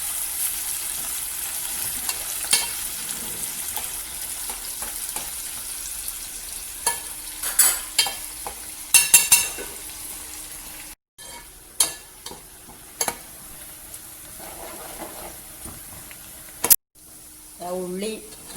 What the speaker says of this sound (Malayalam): ഉള്ളി പൊരിഞ്ഞു വന്നു